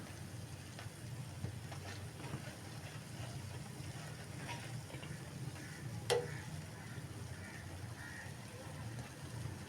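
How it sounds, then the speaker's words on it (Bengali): Gulgula fritters deep-frying in plenty of oil give a steady, low, soft bubbling hiss throughout, with a few faint ticks and one brief sharper clink near the end. "একদম ডুবো তেলে এটা ভাজতে হবে"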